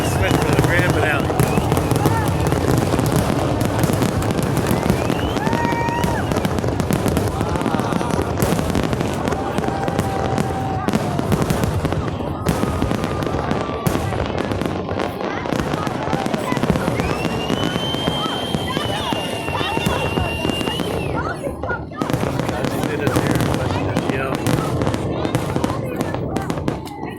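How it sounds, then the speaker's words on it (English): Dense, continuous barrage of fireworks in a New Year 2021 grand finale, with rapid overlapping bangs, crackles and whistling rockets filling nearly half a minute at a steady loud level, voices faintly mixed in. "2021 fireworks and drama display."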